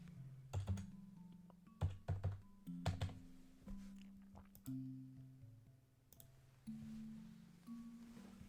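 Quiet, close keystrokes clatter on a computer keyboard in short irregular bursts of clicks with brief pauses, under a soft low background hum.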